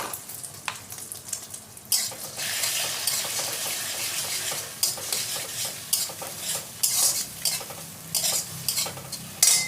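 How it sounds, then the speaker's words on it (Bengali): Egg frying in hot oil in a pan for an egg chicken pasta, a steady close sizzle with light scraping and stirring of a utensil against the pan, no one speaking. "তো ডিমটাকে দিয়ে ভালো করে ফ্রাই করে নেবো একটু"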